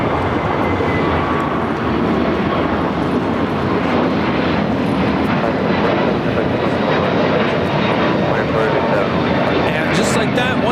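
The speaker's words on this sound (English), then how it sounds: "A321neo taking off to Chicago." An Airbus A321neo airliner takes off from LAX, its engines a loud, continuous broadband roar that holds steady and close throughout.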